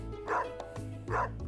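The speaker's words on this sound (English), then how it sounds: "You see this dog here?" Two short, clear barks from a dog in the farming game Stardew Valley, evenly spaced and close, with no talk over them.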